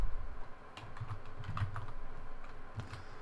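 Quick, uneven keystrokes clatter on a computer keyboard while code is typed out, a close and fairly quiet burst of clicks with short gaps between them.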